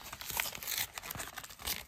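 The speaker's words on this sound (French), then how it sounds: "ces tripacks qui ne veulent pas s'ouvrir correctement" Plastic wrapping on a trading card booster tripack being torn and crinkled open, close, quiet rustling and ripping in uneven bursts with no talking.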